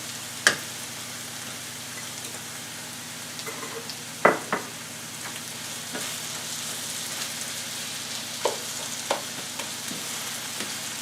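Apple pieces sizzle in a pan with sauerkraut for a German pork and sauerkraut casserole, a steady soft frying hiss broken by a few sharp stir clatters and pops.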